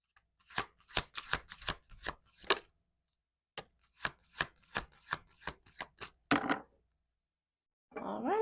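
A deck of tarot cards being shuffled, sharp riffling bursts in quick uneven runs, a short pause, then another run of snaps, ending in a longer shuffle and a brief rustle, close and alone.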